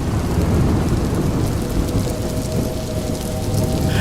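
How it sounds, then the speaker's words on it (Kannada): Heavy rain roaring down at night in Bengaluru, a dense continuous downpour with a low rumbling undertone like distant thunder, loud and unbroken throughout with no voices. "ಅಂದೇ ರಾತ್ರಿ ಬೆಂಗಳೂರಿನಲ್ಲಿ ಮಳೆಯ ಆರ್ಭಟ ಶುರುವಾಗಿತ್ತು."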